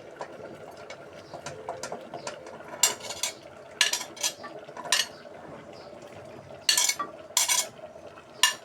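Sweet potato pieces tipped into a cooking pot of pumpkin being made into a sour mango dish and stirred, with close metallic clinks, scrapes and several louder clattering knocks against the pot.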